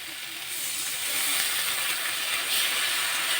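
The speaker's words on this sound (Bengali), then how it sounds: "একটু জল অ্যাড করে দিচ্ছি" Water is added to masala frying in a pan, setting off a loud, steady, bright sizzling hiss that swells slightly and holds for a few seconds with no talk.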